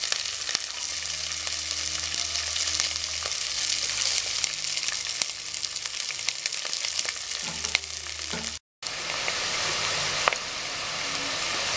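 Curry leaves, green chillies and onion pieces fry in hot oil for a sheep head gravy curry, giving a continuous even sizzle with faint stirring, broken by a brief dropout near the end.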